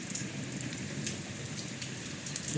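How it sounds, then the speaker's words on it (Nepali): Hail and rain fall outside a home in a dense, continuous patter of drops on surfaces, fairly close and steady, with a few brighter hits standing out and no voices. "असिना नि परिरह कत्रो"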